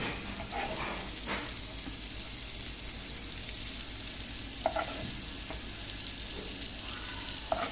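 Spicy eggs sizzle softly on a tawa while being flipped, a faint continuous frying hiss broken by a few scraping clicks of the turner, with no speech.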